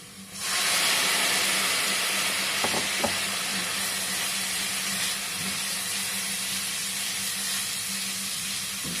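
Water hits hot masala in a pan and erupts into a loud, steady sizzling hiss that holds strong for several seconds, close by, with a couple of faint clinks and no talking.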